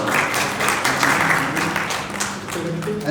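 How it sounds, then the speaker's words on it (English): A crowd applauding steadily, a dense wash of many hands clapping at once that holds at an even level for a few seconds. "with a round of applause"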